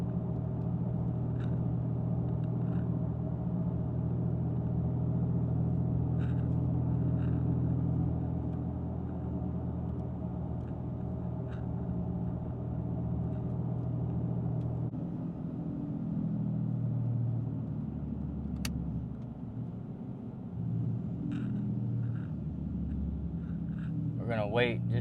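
Ram Cummins diesel pickup towing 20,000 pounds and cruising at about 55 on a highway, a steady low engine and road rumble heard from inside the cab, easing slightly partway through.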